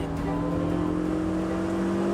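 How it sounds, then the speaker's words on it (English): A lightweight front-wheel-drive Renault hot hatch with no rear seats pulls hard under acceleration, its loud titanium exhaust droning steadily and close throughout. "It's a noisy exhaust without any rear seats."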